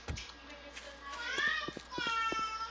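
Woman and baby clamoring in the background of a room, faint and distant, with a child's babbling and squeals rising over a few seconds amid low chatter.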